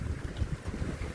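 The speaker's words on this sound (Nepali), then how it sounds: "अहिले मौसम चाहिँ यस्तो हावा पनि पुरै चलिरहेछ" Strong wind blows outdoors as dark clouds gather before rain, a continuous low rumbling buffet against the microphone with no voices.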